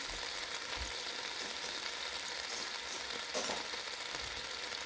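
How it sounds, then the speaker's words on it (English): Wontons frying in oil in a pan while being stirred, a steady close sizzle with scraping stirs, no talking. "So I'm going to give them a bit of a stir. And I'm going to let them just get a little brown."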